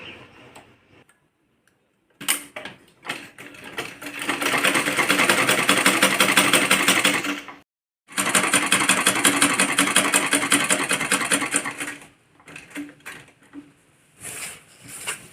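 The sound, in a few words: sewing machine stitching around a kurti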